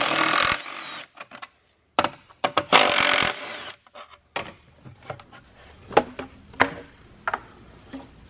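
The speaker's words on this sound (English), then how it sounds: "we switch to a 10mm to remove the bolts holding the intake pipe in place." A 10mm wrench removing the bolts that hold the intake pipe of a Jeep Wrangler JL. Close, scattered metallic clicks and clanks, with a few louder bursts of rustling and knocking between short pauses. No talking.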